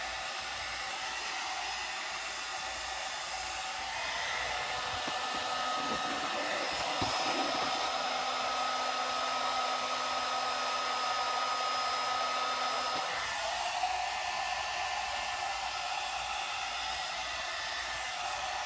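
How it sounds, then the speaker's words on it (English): A 1 Step hot air brush blow dryer runs as a steady, loud, continuous whoosh with a faint tonal hum, lasting unbroken throughout with no talking. "It's a blow dryer and a brush, air brush, supposed to straighten it"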